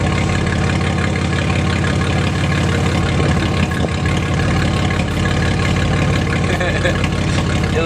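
A straight-piped Nissan Z31 idles low in a steady, loud, continuous drone with a deep rumble, while a person talks over it throughout.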